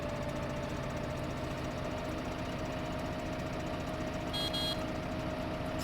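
In Farming Simulator 15, a mower's engine runs steadily, a faint, even drone with a rapid knocking pulse and no change in pitch, and a brief rattle near the end.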